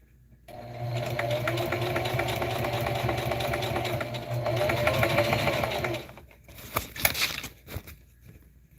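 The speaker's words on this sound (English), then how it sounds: "I'm just sewing around." A sewing machine stitches around a tote bag made from placemats, with a steady, close mechanical hum lasting several seconds, a brief pause, a second run, then handling clatter as it stops.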